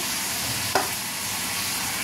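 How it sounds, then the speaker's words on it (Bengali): Chicken sautéing in a pan makes a continuous close sizzle and hiss, broken once by a brief stir or clatter, with no voices. "এখানে এই যে চিকেনটা কষা হচ্ছে"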